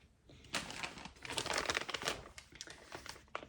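A knitting advent calendar packet being opened, with close, crisp crinkling of plastic wrapping in irregular bursts, quiet overall and without talk.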